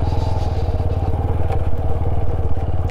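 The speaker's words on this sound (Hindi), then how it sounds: "इसके ऊपर से बाइक थोड़ी स्पीड से निकालते हैं, बाइक पानी गिरेगा ऊपर" A motorcycle on a solo ride to Leh pushes at speed through a stream of icy snowmelt water. Its engine gives a dense, steady close-up rumble with crackling, clattering spray throughout.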